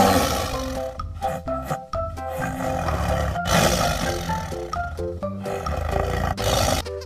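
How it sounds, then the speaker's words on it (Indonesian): Tiger roaring in what sounds like a toy or cartoon setting, loud repeated roars and growls layered with tonal electronic music-like sounds, continuous for several seconds without talk. "Wow, ini harimau teman-teman."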